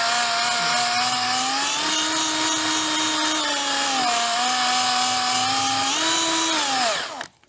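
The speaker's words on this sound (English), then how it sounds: "And then I'll just sand the inside." Power sander or rotary tool working the inside of a motorcycle part for an Aermacchi race bike, a loud close whining motor with steady pitch that dips and rises slightly, then winds down and stops at the end.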